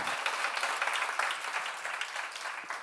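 A church congregation at a seminar breaks into applause, a fairly soft, even patter of many hands clapping together that fades slightly toward the end.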